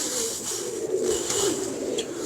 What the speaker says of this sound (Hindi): ये साधना कबूतर है